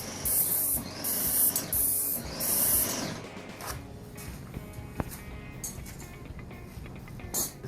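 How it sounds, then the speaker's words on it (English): Paint sprayer misting finish onto kitchen cabinets in bursts, a loud airy hiss repeatedly starting and stopping, then quieter rubbing and handling noises with a brief sharp click. "as I stop spraying, it drips a little bit"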